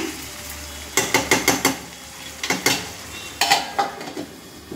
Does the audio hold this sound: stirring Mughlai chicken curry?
yes